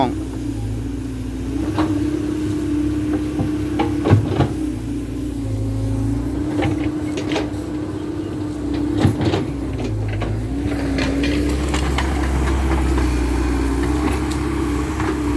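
A farm tractor's engine runs steadily while working hard soil during the digging of an old pond, a constant loud drone with occasional clanks and bumps and voices faintly underneath.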